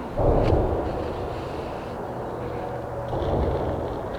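The Kingda Ka roller coaster tower at Six Flags Great Adventure is brought down by a demolition implosion, heard from afar as a deep, rolling boom that fades and then swells into a second low rumble.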